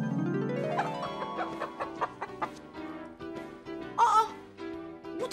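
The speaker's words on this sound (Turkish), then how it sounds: "Aa, bu tavuk da nereden çıktı şimdi?" A chicken clucks in a quick, steady series of close, clear clucks, then lets out a louder squawk near the end, with no talk over it.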